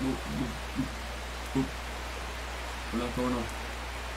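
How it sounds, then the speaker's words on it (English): Steady rain hisses evenly through a scene in the video game Strange Horticulture, a soft constant wash beneath a low hum, while someone speaks briefly in short bursts over it. "It's raining"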